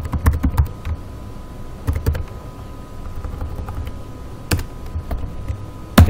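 Keys clack on a computer keyboard in a few short bursts near the start, middle and end, with quiet room hum between; a mouse click marks the close of a folder window during bot testing.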